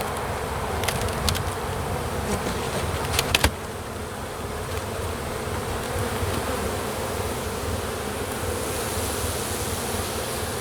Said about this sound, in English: there is a good population of bees though.